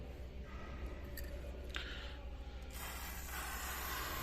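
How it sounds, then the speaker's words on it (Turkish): A motorcycle chain is turned through a rotation during cleaning and lubrication, giving a faint, close, continuous mechanical clicking and ratcheting with occasional sharper ticks. "Sonra şöyle bir tur attıralım zincirimizi bakalım."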